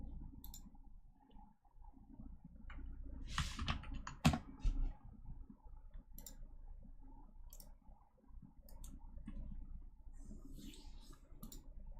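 Quiet computer keyboard typing at a desk during a live coding session, irregular soft key clicks running steadily under low room noise, with one louder clack midway.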